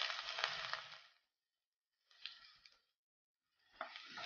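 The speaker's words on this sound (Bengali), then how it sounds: "তেল গরম হয়ে গেছে, আমি কড়াইয়ের মধ্যে দিয়ে দিচ্ছি কাটা পেঁয়াজ" Chopped onions hit hot white oil in a wok and sizzle loudly in three separate bursts with silent gaps between them, close by, with no talk.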